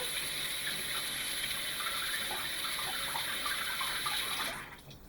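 A tap runs steadily with a continuous rushing stream of water, close by, then shuts off near the end.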